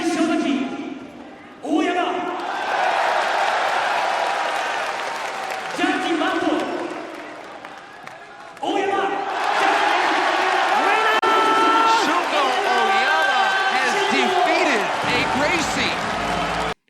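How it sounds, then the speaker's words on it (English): A Pride Fighting Championships arena crowd roars and cheers after a fight's decision is announced, a loud sustained swell broken by brief dips, with an announcer speaking over the cheering and whoops. "The crowd is elated that a Japanese has beaten a Gracie."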